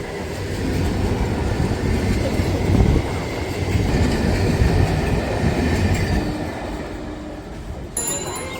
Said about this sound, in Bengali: আর এই পাশে রেল লাইন দিয়ে কিন্তু ট্রেন কিন্তু যাচ্ছে বনগাঁর দিকে